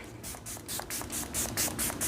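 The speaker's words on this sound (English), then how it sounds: "I wanted to try this Milani Make It Last setting spray." A Milani Make It Last setting spray is misted onto a face in a quick series of about nine short, close, hissing pumps, evenly spaced, with no talking.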